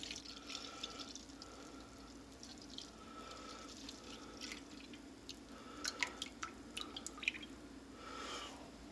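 Half and half is poured into a pan of oil and minced garlic while making fettuccine Alfredo, a faint, soft trickle and patter with small drips and splashes.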